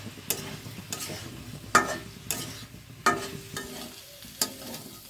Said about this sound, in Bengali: যে জলে মেশানো মশলাটা দিয়ে এই মশলাটা দিয়ে আরেকটু কষে নেব এক মিনিট মতো